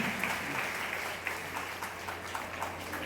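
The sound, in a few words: applause in honour of a guest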